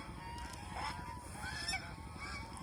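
Lauya breed geese honk a few times, nasal calls rising over a faint background murmur, fairly distant and quiet.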